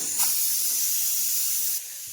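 A pressure cooker hisses while cooking rice, giving a strong, steady jet of steam that holds for almost two seconds before dropping off to a softer rush.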